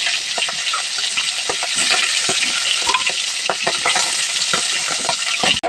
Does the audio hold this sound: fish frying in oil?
yes